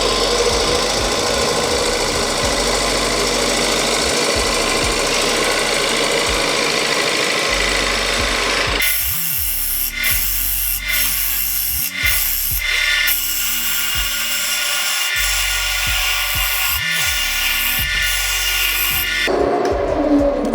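A wood lathe spins a green elm bowl while a cutting tool scrapes it in a steady loud continuous roar, later broken by rhythmic grinding pulses as the cut changes.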